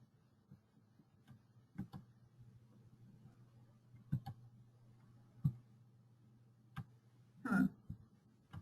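A computer mouse clicks quietly a few times at irregular intervals against a near-silent background, each click short and soft.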